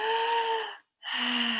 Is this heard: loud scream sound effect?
no